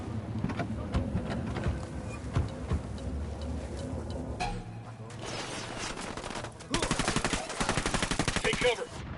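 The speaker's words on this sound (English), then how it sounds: "Take cover. Opening fire." Gunfire in the video game Ghost Recon Wildlands: bursts of rapid automatic fire and scattered single shots, steady and fairly close, with a dense run of fast shots near the end and no talking heard.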